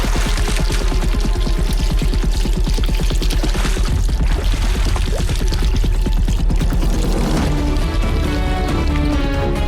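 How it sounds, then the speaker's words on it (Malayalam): Water is poured from a pot over a person's head in a steady, loud, continuous splashing pour with no pause, running the whole length alone and without any talk. "ഈ വെള്ളം എടുത്ത് എന്റെ തലയിലേക്ക് ഒഴിക്ക്."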